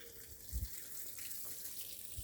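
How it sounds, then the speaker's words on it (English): A small tunnel waterfall near a beach at low tide, heard as a faint, steady splash and trickle of falling water with a couple of soft low thumps and no voices. "We have a little waterfall there."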